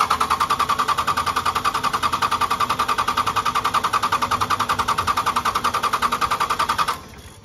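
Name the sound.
2nd gen Cummins diesel engine cranking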